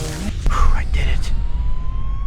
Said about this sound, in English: It sounds like an ambulance is coming.